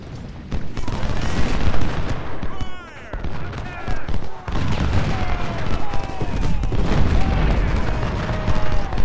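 Cannon fire booms in Ultimate General: Civil War during a Gettysburg battle: repeated loud blasts and crackling volleys over a dense battlefield din, with someone talking throughout.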